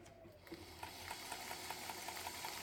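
Dressmaker SWM-1000 sewing machine stitching outside its case, a steady quiet mechanical hum with an even rapid rhythm of needle clicks after a short start-up.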